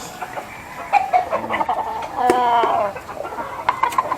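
Chickens in a small rooftop coop cluck and call close by in short, uneven bursts, with one longer drawn-out crowing call in the middle, against a light background hum.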